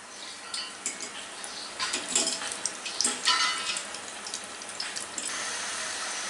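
Battered potato wedges frying in hot oil, a bright crackling sizzle that swells and bubbles irregularly, close and fairly loud, no voices.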